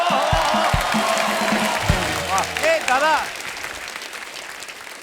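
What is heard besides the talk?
studio audience applause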